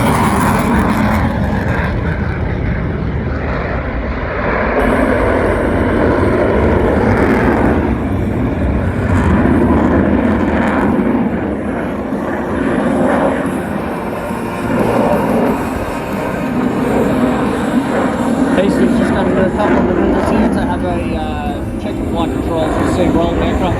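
RAAF F/A-18 Hornet jet taking off at full power at an air show at Wollongong, a sustained loud roaring rumble that holds steady throughout under continuous commentary from a nearby voice.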